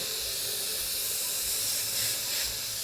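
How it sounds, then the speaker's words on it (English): An airbrush back-bubbling to mix paint in its cup gives a continuous close hiss of air with soft gurgling swells, steady and alone without talk. "pull back on the trigger and it'll start to bubble and effectively mix your paint"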